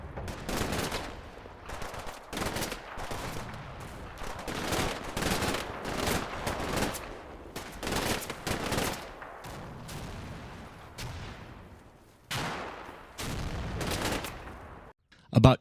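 Bursts of machine gun and submachine gun fire in a World War II strategy video game, with German panzer grenadiers and tank riders. Rapid rattling volleys and scattered shots repeat in dense clusters with short gaps over a low battle rumble.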